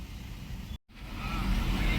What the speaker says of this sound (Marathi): नेहमीप्रमाणे ट्रॅफिक इथे